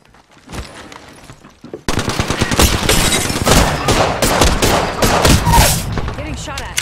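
Apex Legends gunfire: after a quieter opening, dense loud bursts of automatic fire and shots crowd the mix from about two seconds on, with game voice lines heard alongside.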